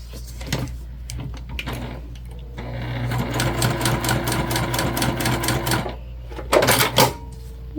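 A sewing machine stitching through a scrap piece of fabric, running in a fast continuous whirring rattle for about three seconds, with clicks and handling noises before and after, close and loud.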